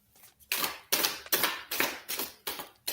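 Tarot cards are shuffled close to the microphone in a run of about six crisp riffling bursts at a steady pace, with no talk.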